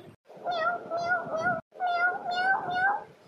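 A cartoon cat gives two drawn-out, wavering meows in a clearly performed voice, loud and close, with a short silence between them.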